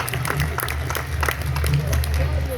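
A crowd at a live comedy show in Surajpur claps in scattered, uneven bursts, moderately distant, under amplified talk and a steady low electrical hum.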